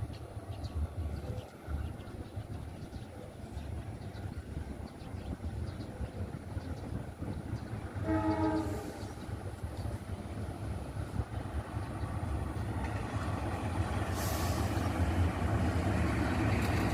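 A CC204 diesel locomotive rumbles past near a station post at Kramasan, a sustained low engine drone and rolling wagon noise building over about seventeen seconds, with a brief horn-like tone midway and outdoor background noise throughout.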